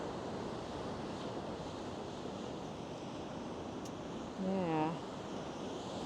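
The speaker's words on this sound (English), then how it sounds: "It's a bit windy, the waves are crashing." Sea waves crash and roll in strong wind along the coast, a steady, broad roar with wind buffeting the microphone; a voice briefly speaks partway through.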